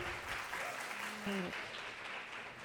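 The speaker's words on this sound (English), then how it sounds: "All right, clap it up, ladies." A studio audience claps at the start of a live-filmed talk show taping, a brief burst of clapping from a small crowd, fairly close, with a voice briefly mixed in.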